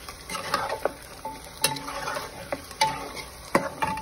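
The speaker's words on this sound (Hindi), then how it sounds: "अब हम इसमें डालेंगे हमारा 2 पाउंड गोश्त, इसको मिक्स कर लें।" Two pounds of beef are stirred into golden-brown onions frying in a pot for aloo gosht, with repeated spoon scrapes and metal clinks over a low sizzle, close by.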